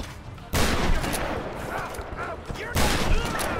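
Shotgun blasts in Tomb Raider boom loudly in a close firefight, two big abrupt bursts separated by a dense barrage of gunfire and debris noise with a voice briefly underneath.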